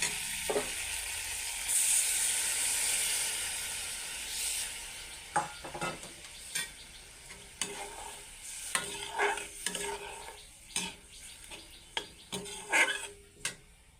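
Spices frying in oil keep sizzling in a pan after water is added, while a spoon scrapes and taps against the metal in an irregular stirring rhythm, close and fairly quiet.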